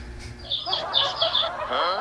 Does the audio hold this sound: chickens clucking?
yes